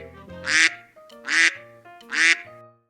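A duck quacks three times in an evenly spaced, loud, nasal series, each quack close and clear with short gaps between.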